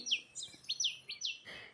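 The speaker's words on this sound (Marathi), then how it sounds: "चिमण्यांचा चिवचिवाट आणि पक्ष्याच्या आवाजाने" Several quick, bright chirps of sparrows and other birds in a rapid series, close and clear against a quiet morning village background.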